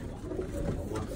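Young Birmingham Roller pigeons, squeakers on a loft floor, coo softly in low overlapping murmurs, faint and continuous with a gentle hum in the background.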